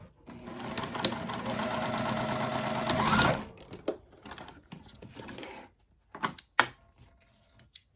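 A sewing machine runs a steady, fast top stitch through a leather tall wallet with Optipop thread for about three seconds. Short bursts of stitching and handling noises follow, close and clear.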